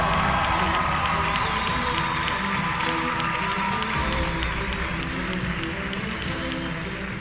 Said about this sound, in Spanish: Recibamos con un fuerte aplauso a nuestro pastor